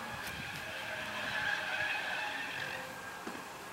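BMW Z3 front tires squeal as they lose grip, a sustained high-pitched screech that rises and fades over a car's engine noise, moderately close.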